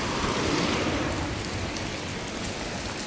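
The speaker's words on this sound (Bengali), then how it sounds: "দেখেন প্রচুর বৃষ্টি হচ্ছে ঘুরি ঘুরি আমি বৃষ্টির মধ্যে দিয়ে হাঁটছি" Heavy rain pours steadily and loudly while someone walks through it outdoors on the second day of Eid, a dense continuous wash with no talking.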